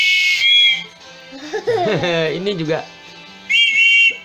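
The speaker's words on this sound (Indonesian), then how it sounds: "Ini gantungan kunci. Peluit. Kereta api." A train whistle keychain is blown in two bright, shrill toots near the start and the end, with a child's brief speech and wavering vocal sounds in between.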